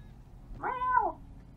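A cat in Final Fantasy VII Remake lets out one clear, rising and falling meow, close and distinct over a low game rumble, with no one talking.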